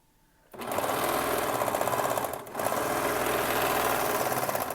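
A serger sewing machine stitches fabric in close, loud, rapid mechanical chatter, starting abruptly, pausing briefly midway, then running on steadily.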